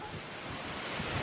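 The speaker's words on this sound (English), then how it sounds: "it's so windy." Strong wind buffets the microphone outdoors in a steady, dense rumble with low gusty thumps. No voices are heard.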